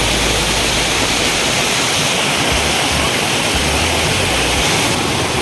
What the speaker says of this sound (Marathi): अरे पाहू शकता तुम्ही असे छोटे छोटे धबधबे आहेत